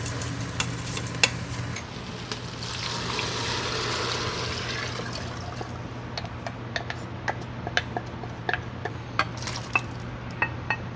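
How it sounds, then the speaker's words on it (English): A spoon stirring dry rice in a pot gives a grainy rustling swirl early on, then a run of light, irregular ticks and clicks as the grains settle, close and fairly quiet, with no voices. "I'm gonna add our 2 cups of dry rice in here. I'm gonna stir this up"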